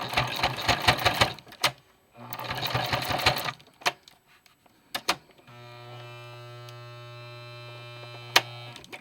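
A sewing machine back-stitches and tacks blackout curtain fabric in two loud bursts of rapid stitching, followed by clicks and a steady motor hum.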